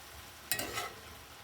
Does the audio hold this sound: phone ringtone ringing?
no